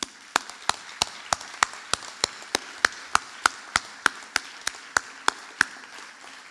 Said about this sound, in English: give yourself a massive round of applause for getting here today